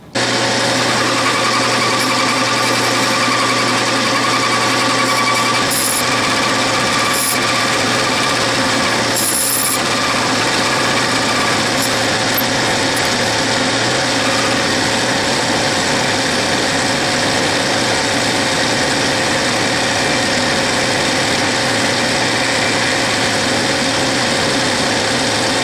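Metal lathe cutting an undercut for a thread on a vise part, a loud continuous grinding, rasping whir with a steady motor drone and a few brief scraping accents.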